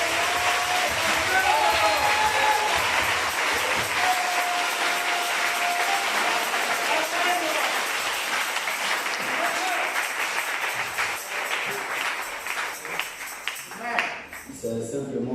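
A church congregation at a Pentecost 2021 service in Divo breaks into loud, sustained applause and cheering that fills the room for about fourteen seconds, with voices mixed in, then thins out and stops.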